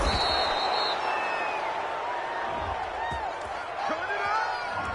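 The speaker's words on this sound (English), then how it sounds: "this crowd does not like that call" A football stadium crowd reacts to a penalty call during an NFL game with a sustained, loud roar of boos and jeers, while a commentator talks over it.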